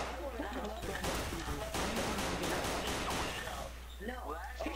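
Gunfire in Garry's Mod comes as a rapid burst of close shots clustered in the middle, under and between excited overlapping chatter from players.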